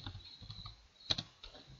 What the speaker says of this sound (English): Let's just type in the password.